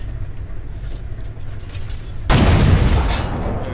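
A tank cannon fires in a tank video game, a sudden heavy boom that breaks over a low engine rumble and leaves a loud, sustained roar and rattle trailing after the shot.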